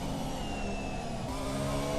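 Race car engine in a video game at Suzuka, running flat out on the approach to Spoon corner; a loud, steady, dense drone held close and continuous, with a slight shift in pitch partway through.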